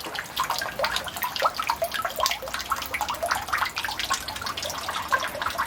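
Steady bubbling and gurgling water from an air pump in a koi pond, continuous and close, air churning up through the water, with no voices.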